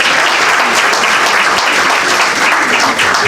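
Loud, sustained applause from a large audience at a law fair and mentorship conference, a dense wash of clapping with no pauses.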